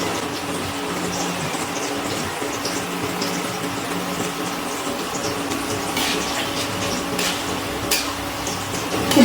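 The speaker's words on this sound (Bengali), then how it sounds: "এবারে দিয়ে দিচ্ছি গরম জল" Hot water poured steadily into a pan of duck curry after frying the meat in oil, a continuous close watery rush with splashy bursts near the end and no talking.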